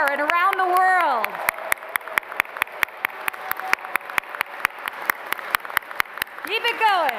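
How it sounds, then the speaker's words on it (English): Applause from the audience at a Class of 2021 master's graduation ceremony, heard as steady, rhythmic, sharp claps in unison running throughout. A voice speaks briefly at the start and again at the end. "Join me in a big round of applause that they can hear out there and around the world"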